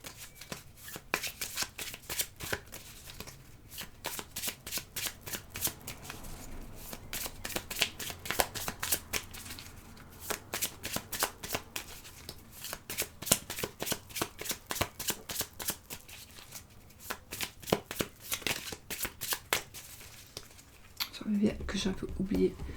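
Oracle cards being shuffled in repeated rapid riffling bursts, close and fairly soft, continuing steadily with brief pauses between shuffles.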